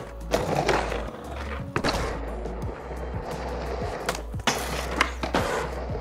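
Skateboard wheels roll and clack in the video game Skater XL with a sound mod: a steady low rolling rumble broken by sharp pops, board landings and thuds on a curb, with no talking.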